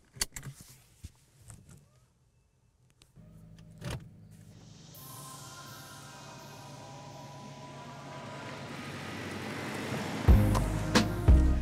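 A 2023 Honda Accord Hybrid Touring sets off on a drive. A few cabin clicks and a thump come first, then a low engine and road hum builds steadily as the car pulls away, with heavier rumbles near the end.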